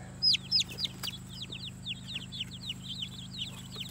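Jersey giant and speckled Sussex chickens cluck softly and steadily, with several louder squawks at the start over a low, constant hum.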